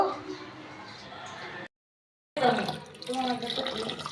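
Broken rice grains washed by hand in water, sloshing and splashing in a continuous wet stream that stops briefly midway, then resumes with louder swishing.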